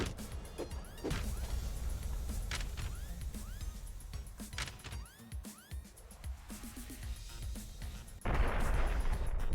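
An overclocked generator blows up in Streets of Rogue with a loud, broad burst near the end, after a run of clattering hits and game sounds.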